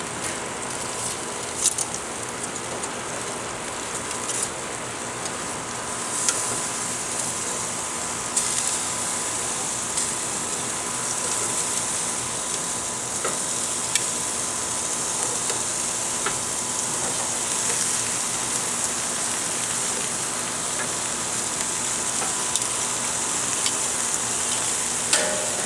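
Spicy pork chops sizzling on a grill, a steady close hiss and crackle that runs unbroken for the whole stretch with scattered small pops and no talking.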